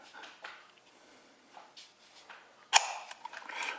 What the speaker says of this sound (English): every shutter I set it to, 100 sounds the same as a 40, which sounds the same as